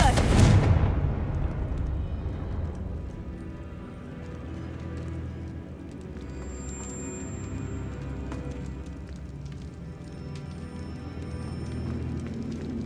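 Confringo spell explosion in Hogwarts Legacy: a sharp, loud fiery burst at the very start that rumbles away into quieter game ambience with faint debris and crackles.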